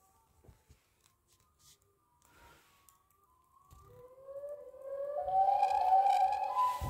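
The Siren Head creature in a Halloween game lets out a rising siren wail that starts faint and swells louder over the last few seconds, after scattered quiet thumps and footsteps.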